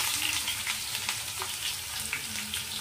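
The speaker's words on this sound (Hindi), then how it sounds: "उसमें हम 2 से 3 मीडियम साइज की बारीक कटी हुई प्याज डालकर उसे अच्छी तरह गोल्डन होने तक फ्राई कर लेंगे" Finely chopped onions fry in oil in a kadhai, a steady close sizzle with faint stirring scrapes throughout and no talking.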